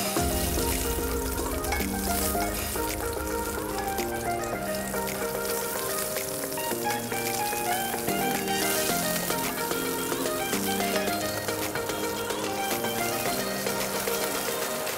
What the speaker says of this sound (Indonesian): kemudian masukkan serai lengkuas Kita aduk sampai wangi